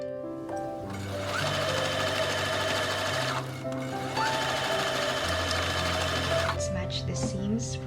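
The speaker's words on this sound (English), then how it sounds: "We are going to sew the side seams of the skirt panels." A sewing machine runs close by, stitching the side seams of circle skirt panels for a puff-sleeve dress. Its whirring hum keeps up in steady runs with brief pauses, and a voice talks over it.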